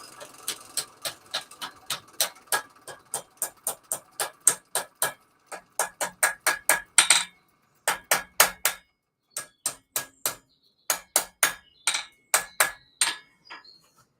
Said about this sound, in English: But I'm going to use the hammer now.